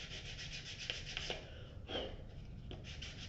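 Steady abrasive rubbing of sandpaper on a hard surface, close and even, continuing throughout without any voices.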